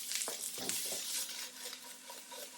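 Onions and broccoli sauté over medium heat in a pan, with a soft steady sizzle and a few scraping stirs and tosses early on, fairly faint and close.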